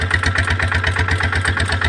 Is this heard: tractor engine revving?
yes